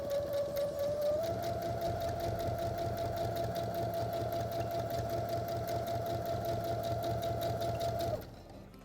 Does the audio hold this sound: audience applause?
no